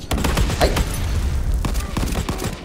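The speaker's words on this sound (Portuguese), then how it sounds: "Tô escutando o barulho do tiro do PH aqui" Rapid gunfire from a P90 and other weapons in a shooter video game, dense bursts of loud shots crackling continuously, close and overlapping.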